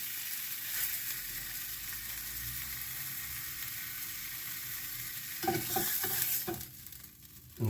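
Beef hot dogs fry in a hot pan with a steady, close sizzle that runs throughout, joined near the end by a brief burst of stirring and utensil clatter; nobody speaks.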